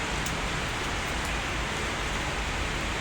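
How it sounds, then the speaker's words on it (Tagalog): Steady rain falls outdoors in the morning, a dense, even hiss of drops that runs continuously with no pauses and no voices. "Umuulan nga actually. Nauulanan din ako."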